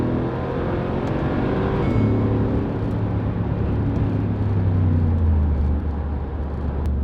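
Engine of a 2017 Mercedes-Benz G63 AMG heard from inside while driving in manual gears, a steady low rumble with a noticeable pitch shift as it changes gear, continuous throughout.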